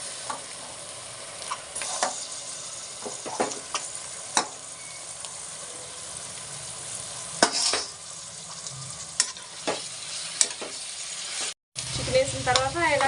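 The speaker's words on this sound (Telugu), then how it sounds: "ఉల్లిపాయలు మగ్గినాయి కదా, ఇప్పుడు చికెన్ వేసుకోవాలండి." Chicken pieces dropped onto sautéed onions in a pressure cooker sizzle and fry steadily, with scattered clicks and scrapes of stirring throughout and a brief break near the end.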